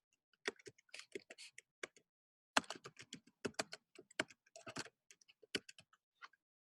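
Quiet keystrokes tap on a computer keyboard for a shortcut, a scattered run of sharp, close clicks in uneven clusters against near silence.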